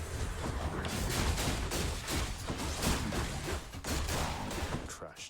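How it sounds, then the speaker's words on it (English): Infernal bombs go off during combat in the video game Hades, a dense burst of rapid booming explosions and crackling impacts heard close and loud throughout. "Just saw the infernal bombs there."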